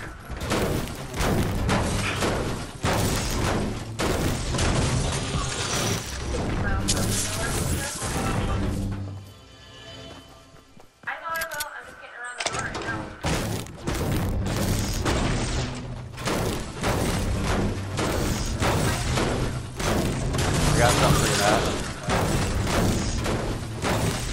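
Game gunfire from a SCAR rifle in Fortnite, rapid booming shots and impacts packed densely through most of the stretch with a brief quieter gap midway, loud and close amid other game effects.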